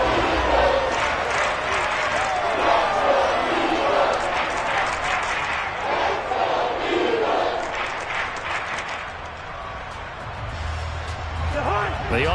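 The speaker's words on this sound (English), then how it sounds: "Plenty of shouts from this crowd as they watch the replay." An American football stadium crowd at a Vikings game roars and shouts in a continuous dense wall of noise, with a commentator talking over it throughout.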